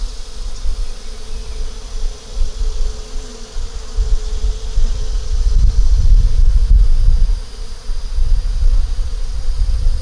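A small honeybee swarm with a laying, unmarked queen drones in a steady, close buzz outdoors, with low wind rumble underneath and no talking.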